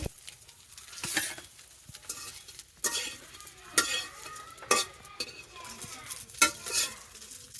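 Pumpkin leaf fritters frying in hot oil in a home kitchen, a soft steady sizzle broken by sharp scraping strokes of a spatula stirring and turning them in the pan, close up.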